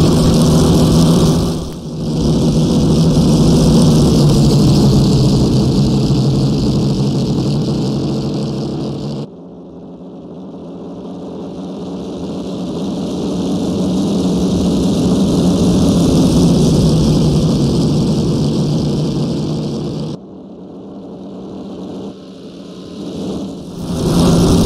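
A 1923 Grand Prix racing car in Assetto Corsa, its engine droning loud and rising and falling in pitch through long pulls, with abrupt cuts at gear changes or lifts between sweeping accelerations.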